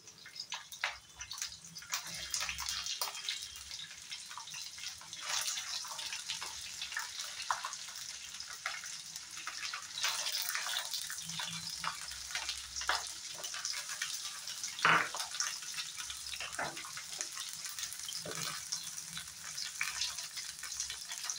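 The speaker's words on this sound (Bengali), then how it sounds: "এখন এখানে দিয়ে দেব টুকরা করে রাখা পেঁয়াজগুলো।" Roughly chopped onions frying in a pan for lauki sabji, a soft, continuous crackling sizzle with scattered sharper pops and spits, fairly quiet and steady throughout.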